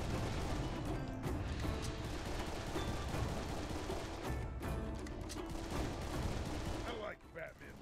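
Gunfire from the shooter video game Serious Sam 3: BFE: dense, continuous volleys and bursts of shots with crashing impacts, loud and sustained throughout, briefly dropping off near the end.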